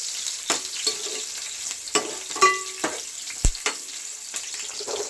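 Tomato rice ingredients fry in a pan while being stirred until browned, a light sizzle broken by sharp spatula clicks and scrapes at irregular intervals, close and moderately loud, no talking.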